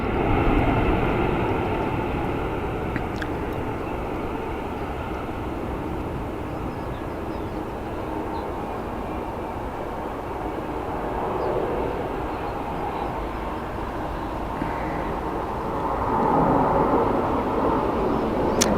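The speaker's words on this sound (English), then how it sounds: "plume of smoke from the Ryanairs coming into land" A Ryanair airliner comes in to land at Dublin Airport, its broad jet roar rumbling steadily for the whole stretch, swelling slightly near the end, heard from a spotting position without talk.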